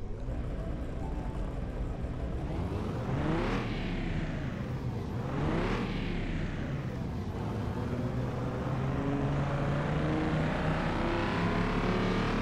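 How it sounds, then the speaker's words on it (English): Jaguar engine in Car Mechanic Simulator 2021 revving loudly, climbing and falling twice in quick sweeps before settling into a sustained high drone, with no talk. "it even has that kind of Jaguar engine sound"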